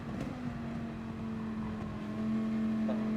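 A Mercedes race car in the Gran Turismo 7 racing game being passed on track, a steady engine drone with a sustained pitch that rises slightly near the end, close and continuous with no talking.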